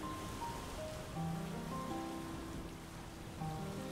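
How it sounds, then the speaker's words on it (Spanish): Steady rain hisses evenly throughout a scene in the video game Windbound, with soft tonal game music notes drifting over it and no voices. "Ya está terminando de llover"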